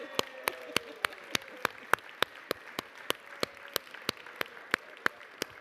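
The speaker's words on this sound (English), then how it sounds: "we give a round of applause to baby Sanchez and baby Gutierrez" A few people clapping in the New York City Council chambers at City Hall to welcome two new babies; sparse, evenly spaced sharp claps, fairly distinct and moderately faint.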